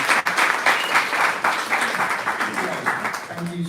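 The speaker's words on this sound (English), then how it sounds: "Big round of applause." A room full of people applauds at a small talk, broad dense clapping that stays fairly loud and even throughout, with faint voices underneath near the end.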